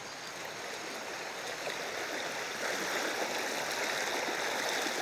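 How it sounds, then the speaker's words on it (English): River water splashes and rushes steadily as someone wades across it in the Ecuadorian wilderness, a dense continuous wash that grows slightly louder partway through. "It's more just the water that's splashing up with the resistance."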